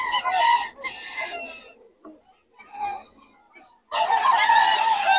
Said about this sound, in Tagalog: Oh, mga manok niya.